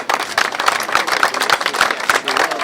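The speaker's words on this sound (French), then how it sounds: "On peut toujours continuer à applaudir." Steady applause and clapping from a crowd at the inauguration of the golden onion festival in Mulhouse, dense and continuous throughout with individual claps standing out near the microphone.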